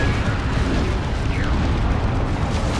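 Artillery in the strategy video game Dawn of War 2 Retribution lands as a loud, continuous barrage of booming explosions and rumbling blasts that fill the whole moment without a break.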